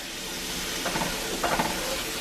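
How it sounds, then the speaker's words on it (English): Chicken stock hits a hot cast iron pan to deglaze it, giving a faint continuous hiss of steam and sizzle with a couple of brief louder bursts. "I want to deglaze the pan and lift all that out"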